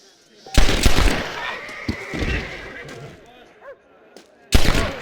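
Gunshots ring out in a Western shootout in the video game Red Dead Redemption, starting with a loud sharp blast, then a lull and a second loud blast at the end, with voices speaking in the gaps.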